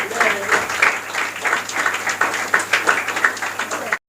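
An audience claps for a student receiving a trophy at a school confidence-building program, a dense, lively round of applause filling the room before cutting off abruptly.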